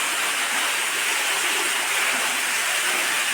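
Water from a side borewell in a farm well gushes out in a full stream, a steady dense roaring rush that stays loud and close throughout, with no voices.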